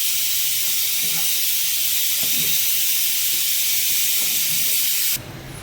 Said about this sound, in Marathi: आता इथे पाणी ठेवलेलं आहे वाफ येण्यासाठी